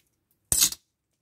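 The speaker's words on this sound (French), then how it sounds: "Donc je viens couper avec mon ciseau au bord." Scissors snip once through the sealed edge of an autumn-themed shaker bookmark, a single short crisp cut in an otherwise silent moment.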